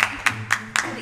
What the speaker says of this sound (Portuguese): Oh, tá bom, sem muitas palmas.